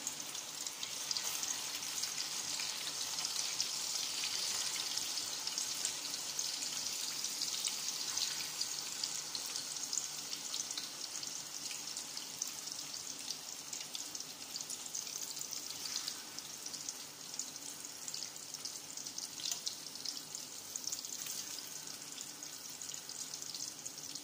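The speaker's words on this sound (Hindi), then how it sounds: "तकरीबन 10 मिनट के लिए इसको फ्राई करेंगे।" Chicken necks deep frying in hot oil, with a steady, dense hiss and crackle of bubbling oil running the whole time without any voices.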